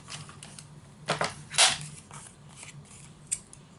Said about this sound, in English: it's wet, so I'm going to cut it out with my scissors.